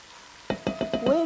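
Minced garlic sizzling in a hot pan, breaking into five quick rhythmic bursts as it is stirred, after a quiet start, with a faint tone running beneath.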